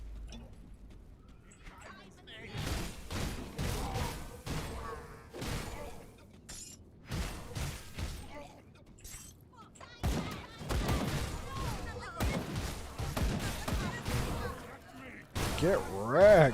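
Gunfire in a video game comes as sharp, loud bursts and single shots with crashing impacts, clustered irregularly and cut by brief pauses, with voices talking over parts of the action.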